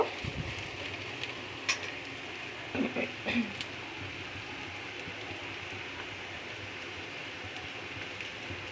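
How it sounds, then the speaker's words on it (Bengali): Masala with chili and turmeric being sautéed in a pan for a vegetable curry, giving a faint, steady sizzle and crackle with a few small knocks of a spoon. "এবার এটা একটু কষিয়ে নেব যাতে হলুদ আর লঙ্কার কাঁচা গন্ধটা চলে যায়"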